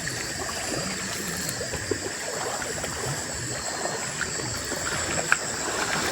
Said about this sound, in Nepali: यहाँ चाहिँ दुईवटा खोला रहेछ फेरि यता र उता